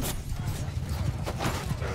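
Horse hooves clip-clop in the battle game Mount & Blade II: Bannerlord as cavalry advances, a steady, dense patter of hoofbeats over a continuous low rumble.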